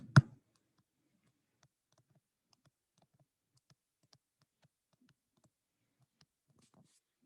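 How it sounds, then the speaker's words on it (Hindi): Soft, sparse clicks of calculator buttons being pressed one at a time, close and faint in a quiet room, after one sharp knock at the start. "I am just using the calculator"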